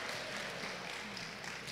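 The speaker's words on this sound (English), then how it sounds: "May we give him a round of applause?" Audience applause at a Divali Nagar cultural night on Grihastha Ashram, a steady wash of clapping heard from a distance, fairly faint and continuous, with no talk over it.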